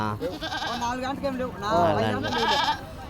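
Sheep, lambs and goats bleat at a weekly sheep and goat market in Galiveedu, Annamayya district, with a few wavering calls rising near and clear over nearby talk.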